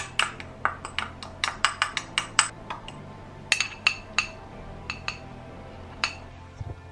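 A spoon clinks and taps against a bowl while paprika, chili, cumin and garlic powders are mixed, making quick bright pings in irregular bursts, close and clear, with no talk.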